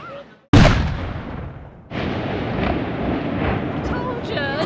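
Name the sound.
Ramadan cannon firing in Dubai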